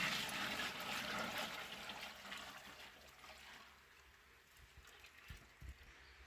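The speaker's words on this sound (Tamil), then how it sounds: "இனி எண்ணெய் ஊற்றிட்டு வெயிட் வச்சிடலாங்க." Coconut oil from a 20 kg batch of copra pours into a container, a steady liquid stream and trickle that is loudest at first and then thins, ending with a few dull knocks near the close.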